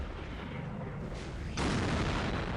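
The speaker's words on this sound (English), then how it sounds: "Artillery and tanks is the word of the day for Team 1 by the looks of things." Artillery fire in the Dawn of War strategy game, a dense rumbling barrage of booms that grows louder and fuller partway through, with no talk over it.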